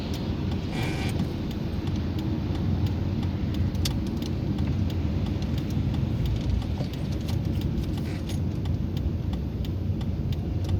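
A manual car rolls gently downhill in second gear, a steady low road and engine rumble running the whole way with faint scattered ticks and light rattles inside the cabin.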